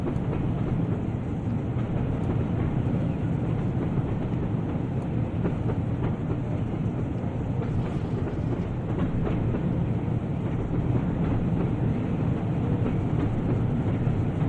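A train runs in the Train Sim World 2020 video game: a steady, loud, continuous rolling rumble with a faint clickety-clack of wheels on rail joints, and no voices.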